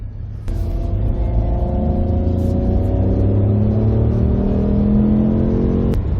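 A 2021 Ford F-150 PowerBoost hybrid pickup truck accelerating hard, heard from inside the cab as a loud, steady engine rumble with a rising whine that climbs smoothly through several seconds after a sudden onset.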